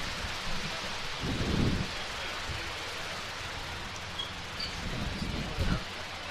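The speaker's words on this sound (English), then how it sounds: "We're getting pelted with rain down below here." Heavy rain pelts down at an outdoor women's soccer stadium, a steady dense wash of noise running throughout, with a few low rumbling bumps like wind or handling noise rising briefly.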